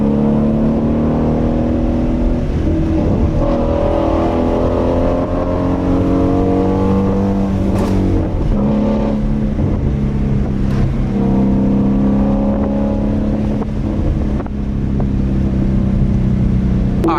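Ford Mustang with a 2-valve V8 revving close by, a loud continuous engine roar rising and falling with occasional sharp exhaust snaps cutting through.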